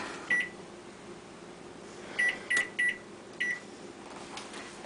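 Oven control panel being set to 350 degrees for 8 minutes: five short, sharp electronic beeps, one early and then four in a quick irregular cluster, over a faint steady room hum.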